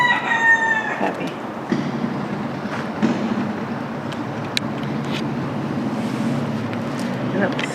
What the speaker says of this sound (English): up the street there's a chicken running around